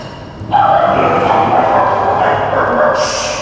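A dog barks and yips at a bird trying to take bait worms, a loud, steady burst of barking that begins half a second in and runs to the end, with a brighter noise joining near the close.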